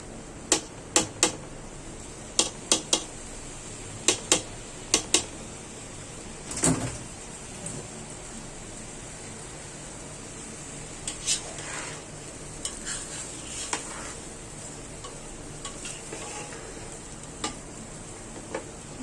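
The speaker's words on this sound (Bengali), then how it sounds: "মুগ ডালটা এখন চালের সাথেই ভাজবো।" Soaked, swollen mung dal frying with rice in a pot, a steady soft sizzle broken by sharp scraping knocks of a spoon stirring, one louder clatter midway, no voices.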